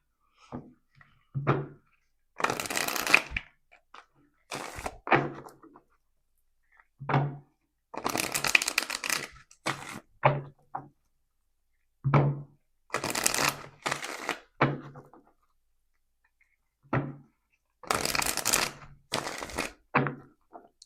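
A deck of tarot cards is shuffled in repeated riffling bursts of a second or two, each one crisp and close, separated by short quiet gaps and the odd tap of the cards being squared.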